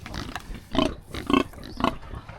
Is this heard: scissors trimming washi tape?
no